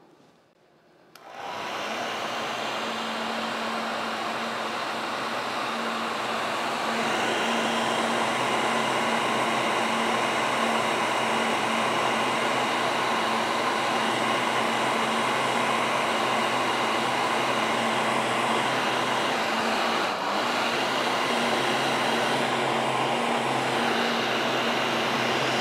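A heat gun blows hot air steadily to shrink heat shrink tubing over a repaired coil ground wire on a chainsaw, a continuous loud whooshing roar with a fan hum that starts abruptly and runs unbroken without talk.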